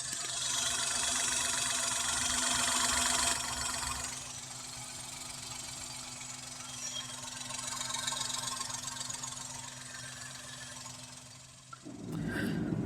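A used 2013 Maruti Suzuki Alto 800 idles with a steady, even hum and a faint rattle, running alone with no talk until a brief shift near the end.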